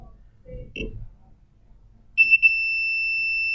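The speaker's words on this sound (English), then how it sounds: "We press on our left, we get a beep." Three quick electronic beeps from a multimeter in continuity mode, probing a shorted iPhone X board, run into one steady high-pitched tone that holds to the end, after a few soft handling clicks.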